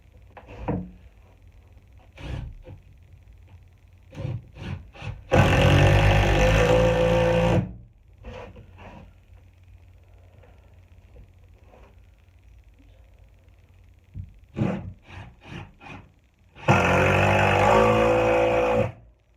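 Milwaukee cordless driver sinking deck screws into wood, two loud sustained whirring bursts of about two seconds each, separated by quieter clicks and handling knocks.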